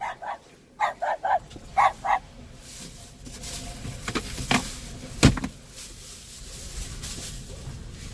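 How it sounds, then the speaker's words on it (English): A dog lets out a quick series of barks, then they stop and give way to rustling, a thud and ongoing background noise. "Stop barking!"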